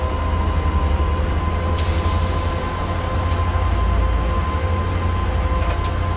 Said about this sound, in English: Start pouring the power on now, we've got the train on the hill.